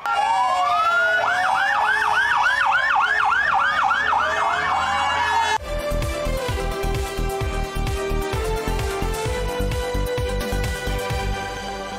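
Loud wailing fire engine sirens rise and fall in overlapping cycles during a firefighters' parade, then give way to a steady blaring horn-like tone with rhythmic pulses, close and continuous.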